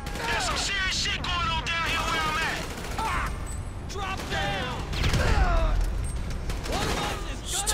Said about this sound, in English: Tossing grenades like a boss.